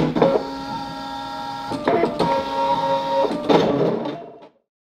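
A cutting plotter slices material for a jute bag, a steady mechanical whir with tonal motor hum and periodic louder clicks and shifts as the blade moves, running for about four seconds before stopping abruptly.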